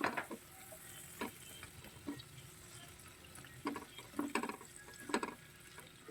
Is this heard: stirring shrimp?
yes